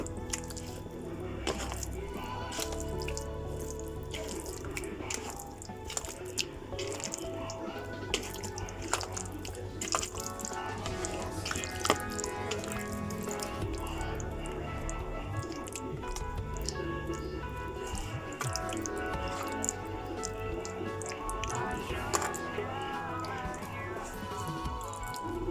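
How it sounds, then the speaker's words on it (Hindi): Wet squishing and dripping as surmai fish is mixed by hand with mustard oil, a steady run of soft squelches and drips close by with no talking. "मस्टर्ड ऑयल डालने के बाद अब इसको अच्छे से मिक्स करना है।"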